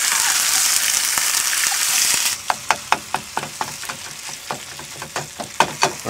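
Loud, steady sizzling of ground meat frying in a pan, then it thins into irregular crackles and pops with scraping stirs.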